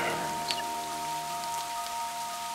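Rain falls steadily in a soft, even hiss, with a few brief drips standing out, continuing without a break and with no voices.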